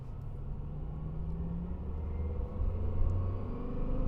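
Lexus LFA V10 engine heard from inside the car on a road drive, a steady low rumbling drone that swells slightly toward the end, with no talking.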